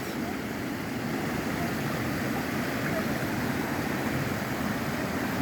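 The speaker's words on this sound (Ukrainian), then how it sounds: "Дивіться, як тут тече вода, швидкість досить висока." Fast-flowing water at the Tokivskyi waterfall in Ukraine, a constant, dense roaring rush that holds steady and moderately loud throughout with no pauses.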